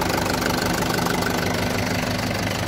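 A Mahindra 575 DI Sarpanch four-cylinder tractor with an inline pump idles up close, its diesel engine giving a steady, loud, rhythmic knocking chug with no talk over it.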